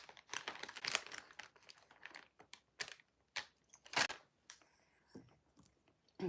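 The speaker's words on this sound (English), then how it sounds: "I'm just munching real quick" Food being munched with a wrapper crinkling, close-up and quiet, in a run of irregular crinkles and crunches with short gaps, no talk.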